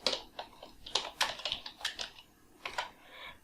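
Quick, light clicking of keys on a computer keyboard, typed in short irregular bursts while entering text in Microsoft Word.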